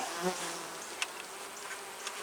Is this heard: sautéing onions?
no